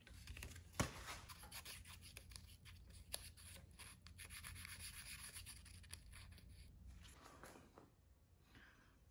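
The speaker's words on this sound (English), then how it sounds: "we have to clean the contact with the 1000 sandpaper" Fine 1000-grit sandpaper rubbing the contact points of a vintage Johnson outboard boat motor, a soft continuous scratchy rasping at close range with one sharp knock near the start.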